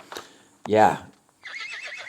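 A horse in the video game Westland Survival neighs once, a loud close whinny with a short snort before it, followed by a softer rumbling nicker.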